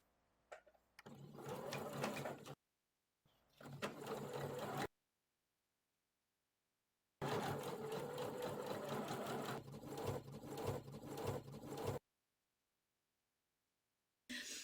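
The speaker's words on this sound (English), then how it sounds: "And now we're going to sew around there." A sewing machine stitches the seam of a doll-sized flutter-sleeve crop top blouse in several close, steady bursts of rapid mechanical whirring, separated by silent pauses.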